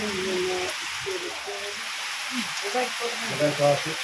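Heavy rain keeps up a constant hiss in the background while people talk over it for most of the stretch.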